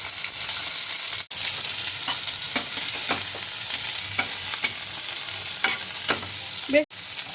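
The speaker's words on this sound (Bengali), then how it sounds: "তেলটা যেই গরম হবে আমরা ফার্স্টে চিংড়ি মাছটা একটু ভেজে নেবো" Prawns frying in hot mustard oil, giving a close continuous sizzle broken by sharp stirring scrapes and clinks of a utensil, with no talking.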